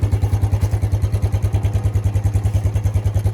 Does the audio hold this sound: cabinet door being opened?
no